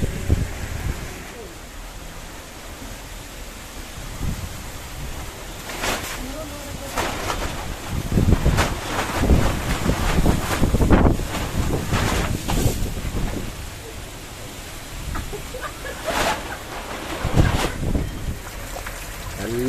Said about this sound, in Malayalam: നല്ല കാറ്റും നല്ല പൊടിക്കാറ്റൊക്കെ വരുന്നുണ്ടോ,